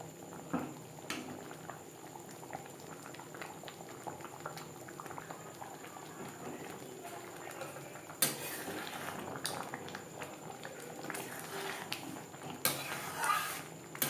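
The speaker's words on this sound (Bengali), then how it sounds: "এক দু মিনিট নাড়াচাড়া করে নেওয়ার পর গ্যাসের ফ্লেমটা অফ করে দেব" Mango chutney mixed with dry-roasted coriander, fennel and red chilli powder bubbles and sputters softly in a pan on a gas flame, with quiet scraping and occasional louder stirring bursts.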